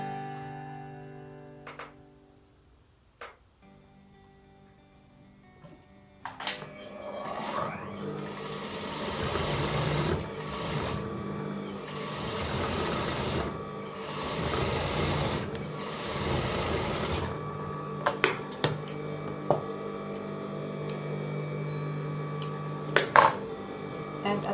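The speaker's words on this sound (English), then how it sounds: "After pressing, we need to stitch the edge." A sewing machine stitching along the edge of a Johnny collar, running in several steady whirring bursts with short pauses, framed by light clicks and handling of metal parts at the start and end.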